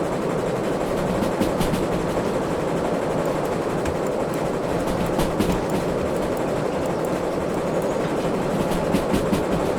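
An S282 steam locomotive in the game Derail Valley climbs with everything open, producing a dense, continuous rolling rumble with rapid rhythmic clatter of wheels on rails, steady and loud throughout.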